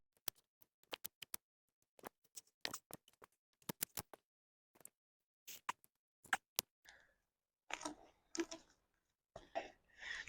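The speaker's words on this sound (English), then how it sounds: "take my scissors, and I'm just going to rip away this duct tape" Scissors snip and duct tape is ripped away from a worn batting tee, producing close, sharp clicks and cuts in irregular bursts, followed by louder tearing rips with brief silences between.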